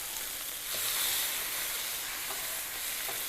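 Smashburgers hiss and sizzle steadily on a hot Blackstone griddle just after being flipped, with grilled onions cooking alongside; the broadband frying crackle is close and fairly loud, rising slightly around the first second and holding throughout.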